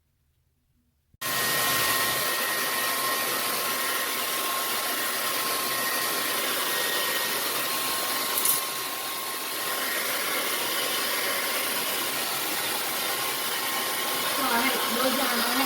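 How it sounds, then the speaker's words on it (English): A blow dryer runs on natural hair, switching on after a moment of quiet and then holding a steady loud whooshing whine with a slight dip midway, close by and without any talking. "Blow drying my hair."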